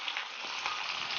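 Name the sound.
green chili pods frying in oil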